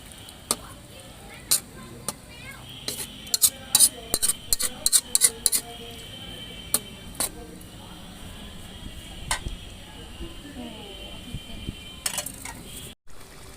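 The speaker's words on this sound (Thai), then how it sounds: "คนให้เข้ากันนะครับ ละลายพริกแกงกับ น้ำกะทิให้เข้ากันนะครับ" Curry paste being stirred into coconut milk in a pot for a Thai winter melon and pork curry, with scattered sharp clinks of a utensil against the pot and quieter scraping between, in a fairly quiet kitchen.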